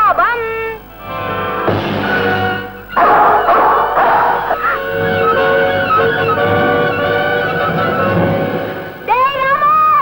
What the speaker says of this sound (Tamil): நாய் மீனை தூக்கிட்டு ஓடுதுடா